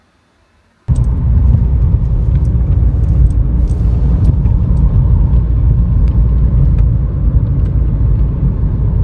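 A car pulling out through a gate, a steady close low rumble of its engine starting abruptly after a moment of near silence and continuing throughout.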